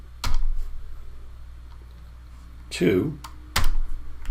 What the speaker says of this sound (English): I can just go in there and type in